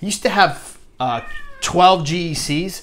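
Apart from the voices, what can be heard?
cat meowing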